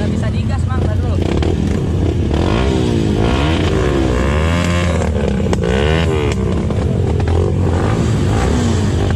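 Trail motorcycles rev and labor through a muddy, grassy trail, engines roaring loudly and continuously with rising and falling pitch as the throttle is worked, while people talk over the noise.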